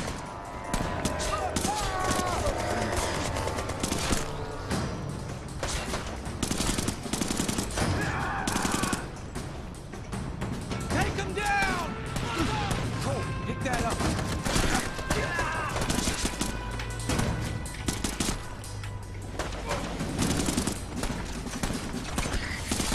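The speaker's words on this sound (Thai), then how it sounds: "SMG เขาปืนรัวนั่นเองครับปืนกลนั่นเองครับ" SMG machine gun fire in Brothers in Arms 3, dense bursts of rapid shots in busy battle action that runs for about twenty seconds, with a voice talking over it.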